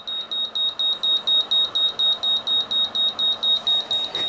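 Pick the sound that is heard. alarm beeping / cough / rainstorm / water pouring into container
alarm beeping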